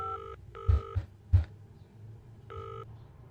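Touch-tone beeps from a phone dialing a number during a mystery game, short stacked tone bursts in a quick sequence with a pause before one more, interrupted by a few low thumps.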